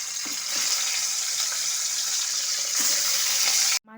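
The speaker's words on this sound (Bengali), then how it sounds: "তেল গরম হয়ে গেছে, আমি মাছগুলো ভেজে নিচ্ছি।" Pieces of katla fish fry in hot oil, giving a steady, loud broadband sizzle that holds for several seconds and cuts off abruptly near the end.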